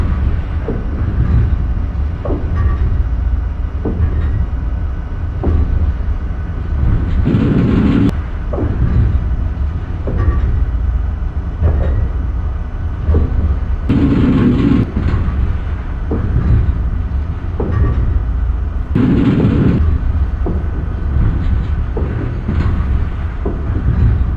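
A Northeast Regional passenger train running between New York City and Washington DC, heard as a loud, continuous low rumble with periodic swells and rhythmic thumps of wheels over track joints, without talk.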